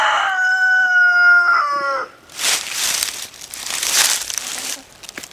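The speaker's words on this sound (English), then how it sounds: "Chickens are probably the easiest animal that you can raise." A rooster crows loudly up close, followed by rustling, crinkling noises and scattered faint clucks.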